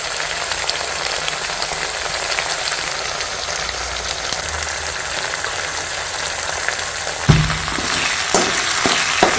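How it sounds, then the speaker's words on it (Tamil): Steady, dense sizzling of chicken frying in hot oil, crackling continuously, with a few soft clunks near the end. "அடுத்து வந்து கறி பொரிக்கிறதுக்கு."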